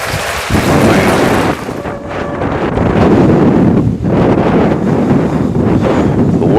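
Strong, cold wind roars steadily into the microphone at Northern Kentucky International Airport, a loud continuous buffeting rumble with gusty swells and no voices.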